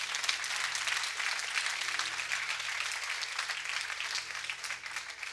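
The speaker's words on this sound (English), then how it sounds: "Give the Lord a bigger hand clap than that" A church congregation claps for the Lord during an evening service, sustained dense hand clapping at moderate distance, continuous and even without speech over it.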